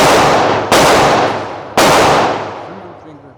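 Gunshots from an S&W M&P 2.0 Pro Series .40 pistol fitted with an FRT trigger firing Winchester rounds: three loud, close, sharp reports, the first two in quick succession and a third after about a second, each with a decaying echo.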